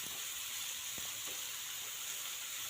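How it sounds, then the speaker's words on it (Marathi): Green beans and cut potato pieces sautéing in a pan give a steady, continuous sizzle and hiss, fairly close, with a few faint clinks and no talk. "आता फरसबी आणि बटाटा छान असा आपण परतून घ्यायचा आहे"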